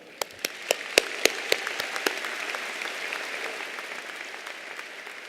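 Applause from a crowd at a university spring graduation ceremony, heard as a soft, distant wash of clapping in a large hall with a few sharper individual claps standing out near the start.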